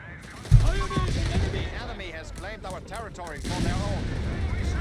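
An artillery barrage in the Company of Heroes 3 strategy video game booms and crackles with rapid gunfire, dense and continuous, while a voice commentates over the battle noise.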